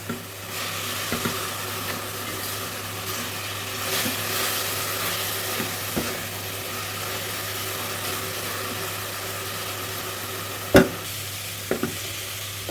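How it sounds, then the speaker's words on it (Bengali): Grated coconut and jaggery fry in a pan for kuli pitha, giving a dense, even sizzle close up, with occasional scraping stirs and a couple of sharp utensil knocks near the end, and no voices. "নারকেলটাকে ভালো করে নেড়ে চেড়ে গুড়ের সাথে মিক্সড করে নিতে হবে"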